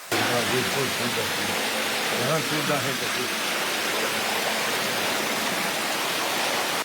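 Floodwater torrent rushing through flooded homes after heavy rain in Paraíba, a steady loud roaring wash of water filling the whole clip, with indistinct voices mixed under it early on.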